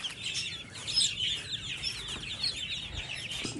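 Chickens and chicks clucking together, a steady chorus of high chirps and soft clucks at moderate volume close by, with no speech.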